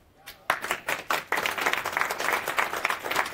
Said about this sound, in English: So one round of applause for Dario.